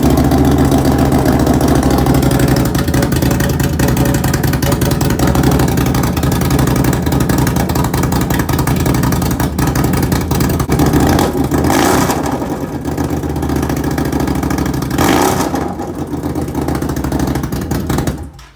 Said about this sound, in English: this is with it without an exhaust on it